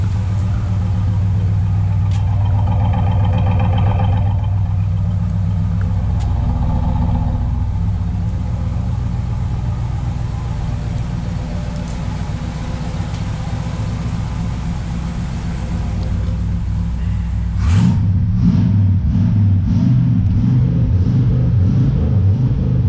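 A 1978 Chevrolet El Camino engine idles with a loud, rough, steady rumble, then the throttle is blipped near the end and the engine jumps into a sharper, louder rev before settling; no one speaks.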